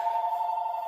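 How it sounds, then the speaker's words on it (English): A telephone rings with a steady, continuous bell tone through the whole short moment. It sounds close and clear, with no talk over it. "why does that telephone keep ringing?"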